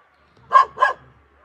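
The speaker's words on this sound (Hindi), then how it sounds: "ओ काहे भौंक रहा है बे" Two quick, sharp pet dog barks close by in the hills, back to back, with near silence around them.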